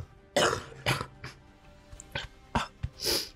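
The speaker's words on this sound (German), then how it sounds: "Darf ich einmal kurz husten?" A woman coughs and clears her throat several times in quick, phlegmy bursts, close to the microphone, with short pauses between the coughs, during a spicy food challenge interview.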